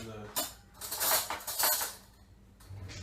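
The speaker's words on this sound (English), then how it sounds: "Now I'll just add a little bit of water to this. Make a paste out of it" A spoon clinks and scrapes against a bowl or cup as whey protein powder and a little water are stirred into a paste, with a few close, quiet bursts of tapping and scraping.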